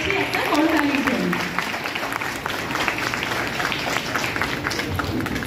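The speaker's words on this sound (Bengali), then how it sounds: "সবার কাছে অনুরোধ করছি একটা করতালির জন্য" An audience at a dance school program for World Dance Day claps steadily with dense, crackling applause, while a voice speaks over it at the start.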